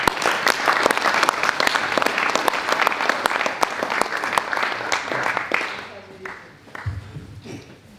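Sustained, dense applause from a seated audience greeting a speaker at a panel discussion evening, loud and steady before tapering off toward the end.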